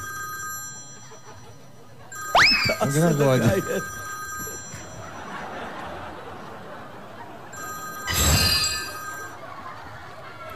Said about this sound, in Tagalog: Ay, nasa yung telepono?